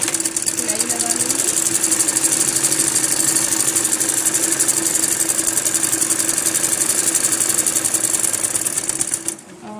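Electric sewing machine running steadily and loudly, stitching the seat seam of a palazzo trouser, with a continuous motor whine and rapid needle clatter that stops abruptly near the end.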